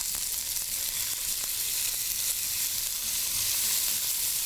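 Minced chicken sizzles steadily in a hot pan, a continuous bright crackle with faint occasional stirring sounds and no voices.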